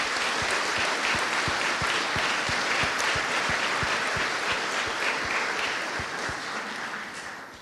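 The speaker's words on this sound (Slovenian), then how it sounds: "vsem tem namenimo en kratek aplavz" An audience at a GEA College graduation ceremony gives steady applause for the graduates' parents and supporters, with dense clapping and a clear regular beat running through it, tapering slightly at the end.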